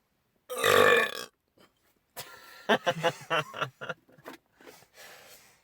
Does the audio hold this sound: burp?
yes